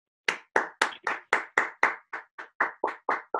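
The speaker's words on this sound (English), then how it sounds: "I have to stop and applaud my doctor again." A single person claps their hands about a dozen times in a steady, brisk rhythm, sharp and close with silence between the claps and no voices.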